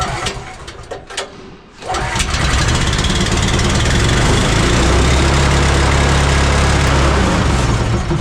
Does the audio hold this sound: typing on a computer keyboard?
no